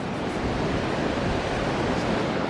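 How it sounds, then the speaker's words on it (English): Ocean waves roll in on a beach as the tide rises, a constant broadband rush of surf, close and fairly loud, with no voices. "And the tide is starting to come in."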